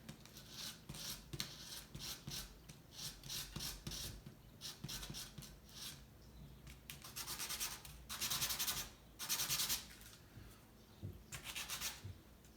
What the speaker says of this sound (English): Notice how quickly I can get that shape just with the sandpaper.